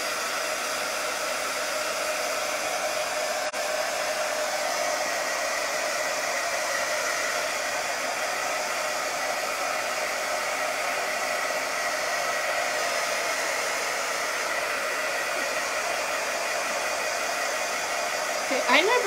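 Hair dryer blowing steadily on a metal tulip spring craft piece, a constant loud airy whoosh running close and unbroken for nearly twenty seconds, with a brief click near the start and a faint shift at the end.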